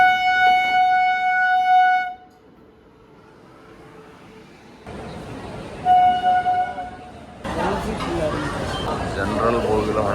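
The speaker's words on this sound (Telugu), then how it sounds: "6:25 కరెక్ట్ టైంకే వస్తుంది. Platform number 1 Telangana super fast express." The Telangana Superfast Express pulls into platform 1 at a station under renovation, its horn sounding in loud sustained blasts that recur midway, followed by rumbling rail noise and platform bustle.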